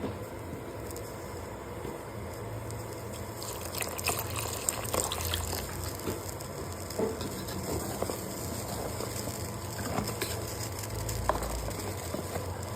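Water poured into thin tomato dosa batter in a home kitchen. A soft, continuous trickle and splash runs for about twelve seconds at low volume, with small drips and clinks scattered through it.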